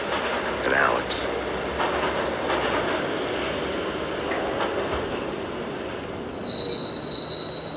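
A train in the video game Max Payne rumbles steadily while its wheels screech on the rails, with high squeals rising near the start and again near the end.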